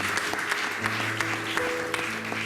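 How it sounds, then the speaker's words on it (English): A business seminar audience claps steadily, a dense patter of many hands with no voices over it. "a round of applause for it"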